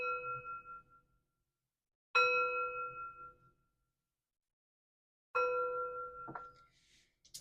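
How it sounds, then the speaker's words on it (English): A hand chime is struck three times at spaced intervals, each a bright, clear metallic ring that decays slowly into silence, close and fairly soft, with a faint rustle at the end. "Three chimes to bring in positive energy."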